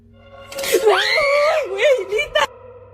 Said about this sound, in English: The girl screams.